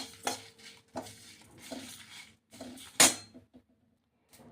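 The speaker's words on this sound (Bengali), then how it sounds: "ভেজে নেব শুকনো কড়াইয়ে।" Mustard seeds, black pepper and five dried chillies are dry-roasted in an oil-free wok, with quiet, intermittent scrapes and clatters of a spoon stirring them close by, trailing into near silence.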